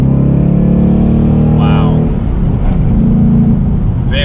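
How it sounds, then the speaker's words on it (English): A 2021 Ford Mustang GT with a manual gearbox accelerates in third gear through a turn at about 40 mph, its engine drone loud and sustained from inside the cabin, with a short exclamation from a passenger. "we'll just do a third gear acceleration around a turn"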